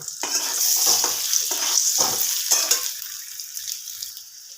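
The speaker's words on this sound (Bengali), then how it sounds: "আলুগুলোকে একটু ভালোভাবে ভেজে নেব" Potato pieces fry in hot oil left over from frying eggs, giving a loud, steady, close sizzle broken by several bursts of stirring that fade toward the end.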